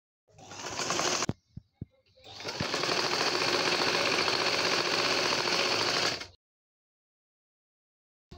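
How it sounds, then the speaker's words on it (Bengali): Domestic sewing machine stitching baby frock fabric, a fast buzzing run of about a second, a few short ticks, then a longer steady whir for several seconds before stopping into silence. "আমি এদিক দিয়ে এভাবে সেলাই করে নিচ্ছি।"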